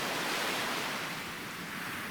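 Ocean surf at Mexico Beach in late July: a steady, even wash of breaking waves at moderate volume, mixed with a little wind and no speech.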